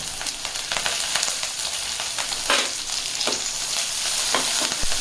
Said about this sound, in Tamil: நல்லா வதக்கிக்கோங்க. மீடியம் ஃப்ளேமில் வச்சுக்கோங்க.